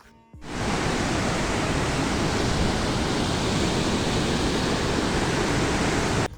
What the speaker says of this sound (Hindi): इन पत्थरों से पानी निकलना शुरू हो गया है